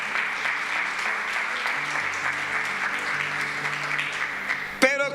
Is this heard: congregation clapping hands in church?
yes